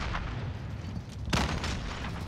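A single explosion boom in a multiplayer shooter video game, a sharp burst about midway through, set against a constant rumbling game background.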